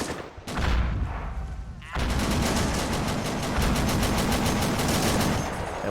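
Battle in the WWII strategy game Men of War: Assault Squad, with Marines attacking Saipan: a heavy tank cannon boom, then dense rapid gunfire and machine-gun bursts that fill the scene loudly and continuously.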